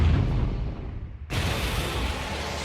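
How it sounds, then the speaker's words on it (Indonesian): The Yamato battleship's main cannon fires in the Space Battleship Yamato film: a low rumble fades, then a sudden sharp broadband blast hits and a loud roaring wash holds afterward. "Kodai melepaskan tembakan"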